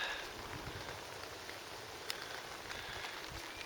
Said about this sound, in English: And the rain, I thought would start to ease off. Seems to be coming down a little bit more again.